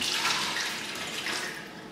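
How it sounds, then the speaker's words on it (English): Cleaning solution pours out of an opened coffee jug in a steady, splashy stream of liquid that runs for the full two seconds, close by with no talking. "We can open up the top, pour away the content,"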